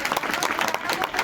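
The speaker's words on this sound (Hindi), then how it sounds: "चलो इनको तालियों से बधाई दीजिए" Audience at a Hindu devotional darbar gathering clapping together, a dense, steady burst of hand claps filling the space, loud and close, lasting only a moment.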